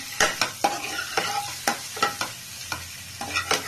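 Egg curry frying in a pan with salt, chili powder and turmeric, the spatula stirring it in a steady run of scraping strokes over a soft sizzle, close and fairly loud with no voices.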